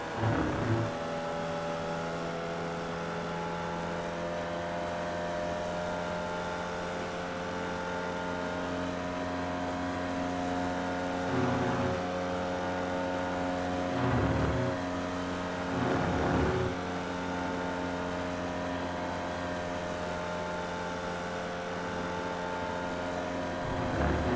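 Formula Vee race car engine held on throttle in iRacing, a steady droning buzz with strong harmonic tones, briefly interrupted by a few short bursts, with no voices.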